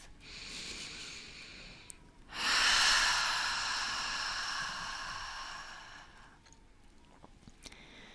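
A deep, slow relaxing breath during a guided relaxation session, a long airy inhale swelling up loudly and then easing into a gradual exhale that fades away, heard alone and close without talk.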